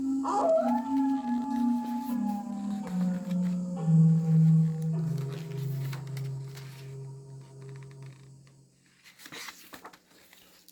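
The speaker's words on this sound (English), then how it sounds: "if you ever hear Coyote's voice way out in the desert at night" A coyote howls in the desert at night, giving one long, wavering call that rises and then slowly slides downward, loud and sustained, before trailing off into faint scattered noise.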